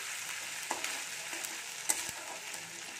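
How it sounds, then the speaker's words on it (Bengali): Ginger frying in a pan while making chana dalna, a faint steady sizzle with a couple of soft stirring knocks, close but quiet, with no talking. "একটু ভেজে নেব, আদার কাঁচা গন্ধটা চলে গেলে"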